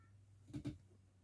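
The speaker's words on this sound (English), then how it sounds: "there's a cat outside meowing" A faint cat meow in two quick pulses, distant and muffled, as if from outdoors, over a low steady hum.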